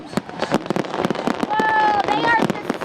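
Fourth of July fireworks show at a city celebration in South Florida, with repeated sharp bangs and crackling bursts in quick succession over steady crowd noise and voices, plus a few rising whistles.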